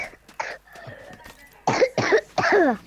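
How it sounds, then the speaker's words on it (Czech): Coughing: a few short, sharp coughs up close, the last three coming in a quick, harsh cluster after quieter throaty sounds. "Já nechci furt kašlat jenom."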